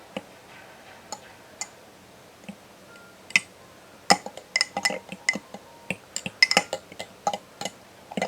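Freeze-dried peaches, reconstituted for a cobbler, stirred in a pot: scattered spoon taps and clinks against the pot, sparse at first, then quicker and denser, all close by with no talking.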